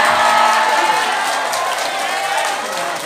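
Crowd applause and cheering at a live Islamic sermon gathering in Purworejo, a dense, steady wash of clapping from a large audience that fills the whole moment and fades slightly toward the end.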